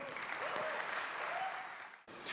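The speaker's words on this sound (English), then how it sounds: "Give yourself a round of applause." A crowd at a OnePlus 5 smartphone launch in Mumbai applauds in a brief, dense wash of clapping that drops off abruptly, with faint voices underneath.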